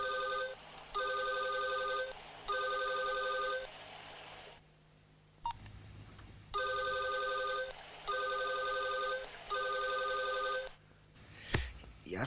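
A telephone rings repeatedly and goes unanswered, its electronic tone sounding in even bursts with short gaps and a longer pause midway, followed by a brief rustle at the end.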